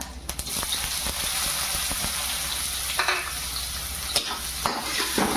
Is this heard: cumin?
yes